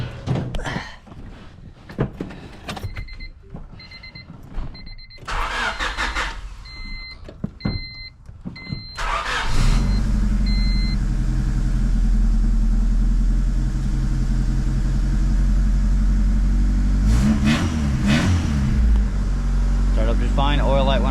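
Intermittent beeping chimes under talk, then an engine cranks and catches, settling into a steady, loud idle with a brief rise in revs near the end.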